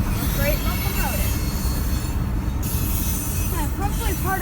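Freight locomotive brakes on an MNA hopper train squeal in shrill, wavering tones over loud, continuous rail rumble and wheel noise, close by.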